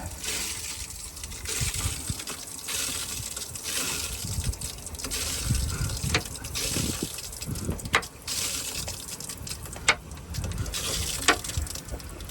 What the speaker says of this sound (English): The next step is to slowly move this bypass valve to allow water to go into the water softener.